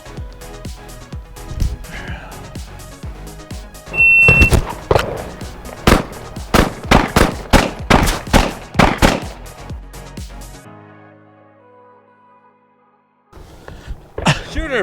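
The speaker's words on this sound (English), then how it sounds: "Shooter, from the holster, 3 rounds in 7 seconds." A handgun fired from the holster at a 10-yard range, a run of loud, sharp reports in close succession followed by a quieter pause, then more shots near the end.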